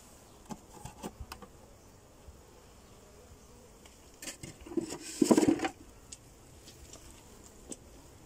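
Honey bees buzz softly as they are transferred from a split nuc into a full brood box, a low steady hum with scattered brief clicks and a louder swell near the middle.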